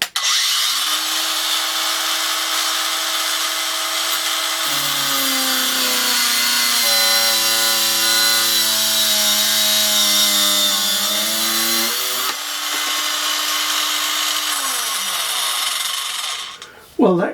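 A Parkside cordless angle grinder runs at full speed while cutting, a loud, close, sustained whine whose pitch dips and shifts under load before the motor winds down at the end.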